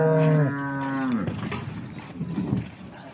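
Two cows, both freshly calved, give a loud, close, drawn-out moo that falls in pitch, followed by softer rumbling low calls.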